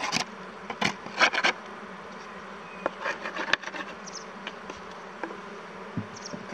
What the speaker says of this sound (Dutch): de bijen die nog op de ramen zitten